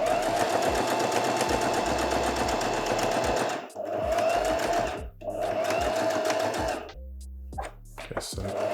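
A sewing machine stitches fabric in fast rapid-fire bursts, running continuously at first, then stopping and restarting in shorter runs, close and fairly loud.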